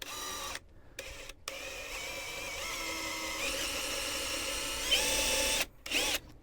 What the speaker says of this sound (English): I want to kind of do like pilot holes.